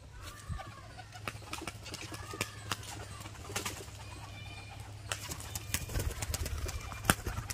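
A tumbler pigeon at an outdoor pigeon sale gives soft, repeated cooing. Scattered sharp clicks and taps punctuate it, and a low steady hum sits underneath with no talk.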